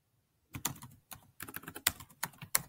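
Close, crisp computer keyboard typing as an amount is entered into a budgeting app: after a brief silence, irregular bursts of sharp key clicks follow each other, with no voices.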